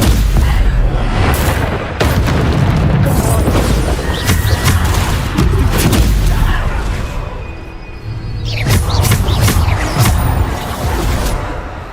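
Bombarda blasting spells in Hogwarts Legacy: a continuous barrage of booming explosions and crashing impacts, loud and close, layered over dense game combat noise.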